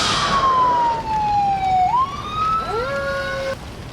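Fire truck siren in the Emergency 4 video game with the Harbor City mod: a loud, close electronic wail that sweeps down, then rises, then overlaps with a second siren tone before cutting off abruptly.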